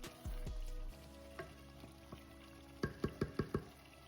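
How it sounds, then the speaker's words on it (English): Carrots simmering in a Ghanaian vegetable fish gravy, with a faint bubbling sizzle and a few sharp utensil knocks, ending in a quick run of five clinking taps close by. "Now that our carrots have been simmering for like a minute"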